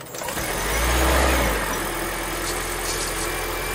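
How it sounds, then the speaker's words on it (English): A 2018 Toyota C-HR Hybrid engine cranks and catches, revving briefly before settling into a steady, close idle. "I'm just gonna get the engine started."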